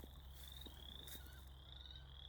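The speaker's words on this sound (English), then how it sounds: "These frogs." Frogs croak in a swamp, a steady chorus of repeated calls close by with other faint outdoor sounds and no talking.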